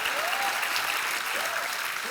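Studio audience at a Hindi comedy show bursting into sustained, even applause, a dense wash of clapping that stays loud throughout with a faint voice underneath.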